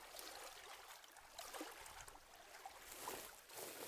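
Faint, even rushing of a forest river in the audio game Blind Survival, a soft continuous wash of flowing water with gentle swells and no voices.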